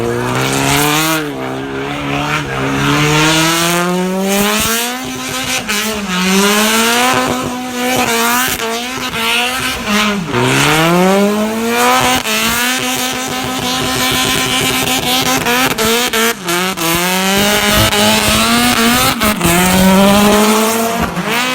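A performance car at a Carfest North track event runs a fast lap, its engine loud and close, rising and falling in pitch through repeated gear changes, with tires squealing through the corners.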